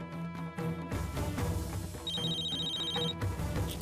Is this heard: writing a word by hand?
no